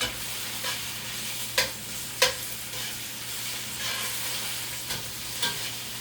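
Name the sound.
garlic paste sautéing in a pan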